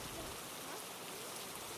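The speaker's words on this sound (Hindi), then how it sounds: "लेकिन बारिश बहुत तेज़ हो गई थी" Heavy rain falls in a steady, dense hiss with no break, fairly soft and even throughout.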